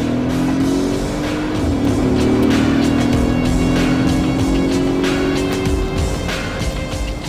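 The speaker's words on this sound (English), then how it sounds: "the passengers inside the car are treated to the full AMG engine song" Mercedes-Benz S 63 AMG engine in sport mode on tight mountain bends, a loud, close, sustained growl with a rising and falling tone. Sharp crackles sound over it throughout, with no speech.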